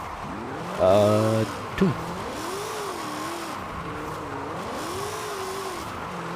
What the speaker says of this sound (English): I'm not the best at all-wheel drive drifting.